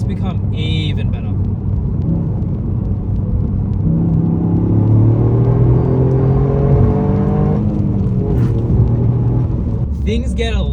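2022 Toyota GR Yaris Rallye in its track setting, its turbocharged engine droning steadily as it accelerates, with rising engine tones under continuous talk from inside the cabin.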